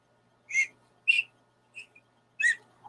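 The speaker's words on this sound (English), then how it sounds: "I'm going to learn to play this whistle that was in that emergency kit" A small whistle from an emergency survival kit sounds four short, close, clear notes with pauses between them in an otherwise quiet setting.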